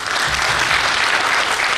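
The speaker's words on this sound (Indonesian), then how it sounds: "Tepuk tangan dulu." Audience applause fills a business opportunity presentation for BioGreen, a dense, steady wash of clapping from a sizeable crowd that stays loud and even from start to finish.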